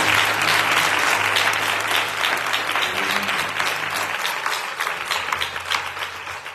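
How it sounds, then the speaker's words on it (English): A church congregation claps in praise at a bishop's consecration service, with loud sustained applause that gradually thins and turns more scattered toward the end. "come on, give God a hand clap of praise"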